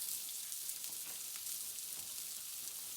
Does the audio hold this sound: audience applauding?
no